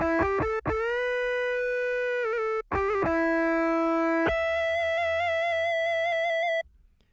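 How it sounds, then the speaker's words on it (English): Sampled guitar notes played from a Korg PA5 keyboard, sustained tones with a slightly synthetic, effected edge, a few short notes followed by long held ones. "And that guitar sounds like this."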